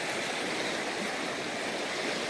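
Mountain stream water flowing steadily in the hills on a road trip near Kanatal, a continuous broadband rush and splash, close and fairly loud, with no voices.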